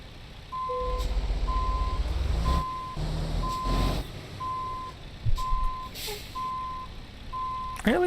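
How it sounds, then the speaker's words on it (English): A Western Star truck in American Truck Simulator sounds its backup beeper, a steady series of evenly spaced electronic beeps over a low idling engine rumble, with an air brake hiss near the end. "I really kind of like that backup beeper."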